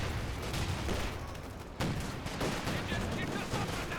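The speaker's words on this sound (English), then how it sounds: "Oh, look at all those barrages going down." Heavy artillery barrages in Company of Heroes 2 rumble continuously, with dense overlapping explosions and gunfire forming a loud, steady wall of battle noise, a sharper blast punching through midway.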